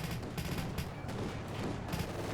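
Grenade blasts tearing into an MG42 machine-gun position in the WWII strategy game Company of Heroes 2, amid dense, continuous battle noise with rapid gunfire and explosions layered together at steady loudness.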